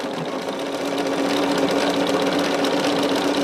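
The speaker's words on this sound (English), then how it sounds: "We've only been sewing for 17 minutes." A sewing machine stitches quilt squares with a steady, continuous mechanical whir that stays close and even the whole way through, with no talking over it.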